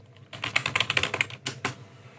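CSS code for font size being typed on a computer keyboard, a quick close burst of key clicks followed by a couple of heavier key presses, no voices.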